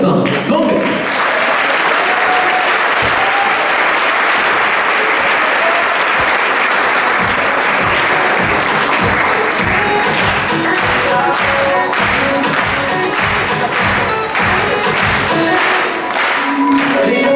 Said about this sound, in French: Merci de faire un tonnerre d'applaudissements à Quentin Vanmer.